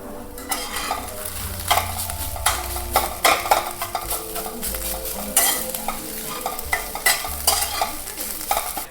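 Wild leafy greens, a medicinal foraged vegetable, stirred in a pan to break up clumps: repeated scraping strokes of a spoon against the pan over a steady low sizzle, close and fairly loud, with no talking.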